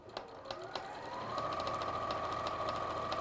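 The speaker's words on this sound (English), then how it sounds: "all I'm doing is sewing over my sewn lines, my drawn lines" A sewing machine stitches over drawn lines in a felt craft, starting with a few quick taps, then running into a steady, close mechanical whir with a rhythmic needle clatter.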